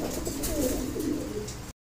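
Pigeons coo close by, low throaty calls rising and falling over a steady hum of background noise at a pigeon market with Bombay, Danish and other fancy breeds.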